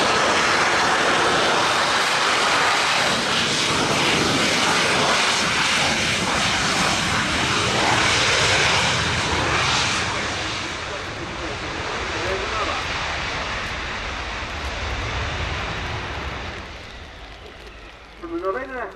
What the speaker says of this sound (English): From the Novena Escuadrilla of the Spanish Navy, the McDonnell Douglas EAV-8B Harrier II Plus.